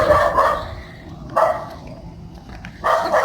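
Dogs at a place in Davao City, with a black and white dog teasing the others: three loud barks spaced about 1.4 seconds apart, close by, over low background noise and no talk.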